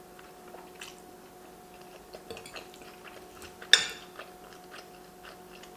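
Close, quiet chewing on a mouthful of black squid ink pasta with mussels, soft wet squishy bites and a few light cutlery clinks, with one sharper clack near the end.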